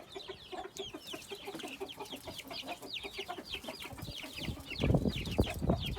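Roosters and chicks cluck busily while feeding on eggs, a dense stream of close, overlapping clucks and chirps with pecking noises, growing louder and more scattered toward the end.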